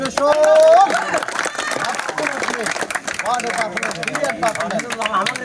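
Applause from a crowd at a friendly village football match trophy presentation in Rameshwarpur, with a dense patter of clapping running steadily under a loud speaking voice throughout.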